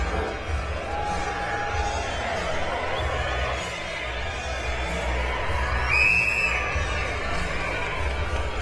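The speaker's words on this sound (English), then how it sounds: "this crowd is now really into it after the knockdown by Bute in round 6 off of a body shot" A boxing arena crowd roars after a knockdown, a dense sustained wash of cheering and shouting with a brief louder swell near the end, people talking faintly within it.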